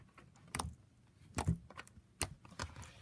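White Elmer's glue slime gives a handful of sharp, quiet clicks and pops as it is squeezed and handled, spaced irregularly across a few seconds with no talking.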